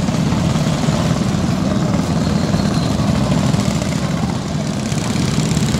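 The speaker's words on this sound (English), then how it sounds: "the noises from the little sampans there in the background taking passengers across the river" Steady low rumble of small sampan boat engines on the Yangon river idling and chugging continuously in the background, with no voices.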